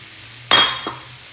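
Day-old rice tipped into a hot pan of cooked-down onions, giving a sudden loud sizzling hiss that fades, followed by a brief second scrape or clink of a utensil.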